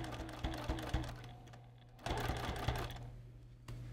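A sewing machine stitches a pot holder at stitch length 3 in two short runs of rapid, steady mechanical whirring, broken by a brief pause and an audible stop.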